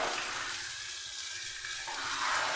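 Water poured into a pot of chicken biryani during cooking, a steady close splashing stream lasting a couple of seconds, alone without talk.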